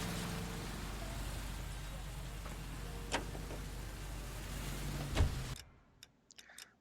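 Steady rain in the video game LA Noire hisses softly with scattered ticking drops and a couple of sharper taps before it cuts off abruptly.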